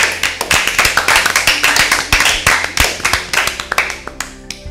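An audience claps for Team A at a Bible quiz: brisk, rhythmic clapping from several hands, close and fairly loud, holding steady for a few seconds before thinning out at the end.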